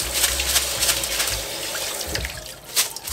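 Running water pours steadily over buckwheat being rinsed in a sieve in a home kitchen, a close, continuous splashing hiss with small bursts from stirring.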